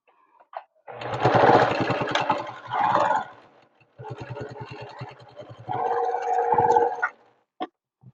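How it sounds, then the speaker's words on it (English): A sewing machine stitches a dart on a fabric bowl cozy in three slow bursts of rapid mechanical chatter, with short pauses between runs and no talking. "Other people, myself included, like to stitch slower."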